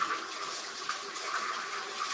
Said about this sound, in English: let me wash my hands off real quick